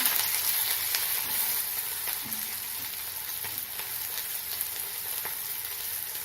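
Onions hit hot oil already crackling with mustard seeds and urad dal, a loud, continuous sizzle with occasional stirring scrapes, close and unbroken by talk.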